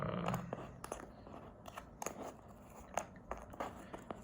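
Board game tiles from a prototype are shuffled by hand on a table, a quiet run of small clicks and taps in irregular bursts, close and faint with no talking.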